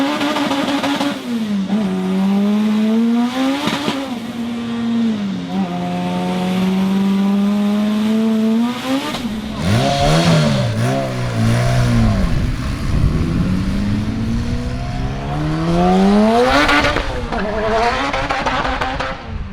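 Cheap eBay Honda Civic launching in a quarter-mile drag race, its engine revving hard and loud through climbing gear changes, with a rough, wavering roar midway and a fresh rising pull toward the end.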